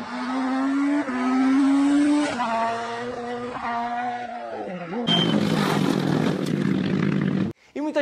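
A Nissan Versa with a 1.0 three-cylinder engine revs and accelerates, its engine note climbing through rising gear pulls before shifting into a louder, rougher roar that cuts off abruptly, with a person talking over it.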